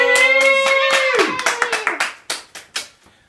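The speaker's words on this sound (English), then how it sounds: "Give them a big round of applause" A handful of people clap close by at a live comics show, starting under a fading voice and thinning to a few separate, spaced claps that trail off.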